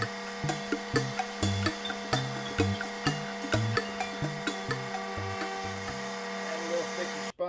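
A hand-forged bushcraft knife edge is drawn over 330 grit in regular, evenly spaced strokes, about a dozen crisp scraping passes close by over a faint steady background.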